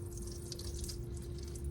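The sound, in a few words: rinsing suction tip with distilled water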